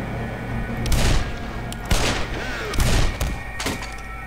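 Magnum revolver shots in Half-Life Source: four loud, evenly spaced booming shots, each with a short echoing tail over steady game background noise.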